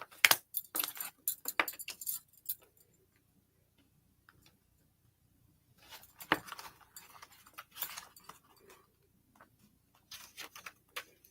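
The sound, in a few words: picking up cards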